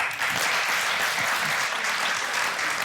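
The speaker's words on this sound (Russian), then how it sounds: "Это просто аплодисменты." Studio audience on a TV talk show clapping steadily, a dense, even wash of applause that fills the whole clip at moderate loudness.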